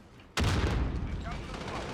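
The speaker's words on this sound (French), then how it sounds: "Throwing grenade." A sudden loud blast from a thrown grenade going off in the shooter game Battlefield V, a sharp boom that decays into a rumbling tail while a voice speaks faintly underneath.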